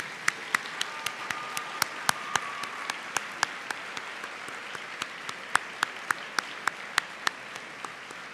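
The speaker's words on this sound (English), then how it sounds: "join me in a standing round of applause to thank your families, your friends, and others that have given you support" A standing ovation fills a University of North Georgia commencement ceremony in Dahlonega, with a steady wash of crowd clapping and a few sharp, closer claps popping out above it.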